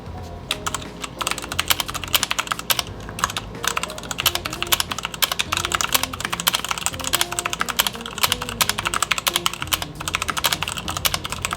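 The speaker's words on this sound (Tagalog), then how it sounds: "Para sa isang keyboard at this price point, okay yung typing experience niya." Rapid, steady typing on an Ajazz budget gaming keyboard, a dense run of close, crisp key clicks continuing for the whole stretch with no talk over it.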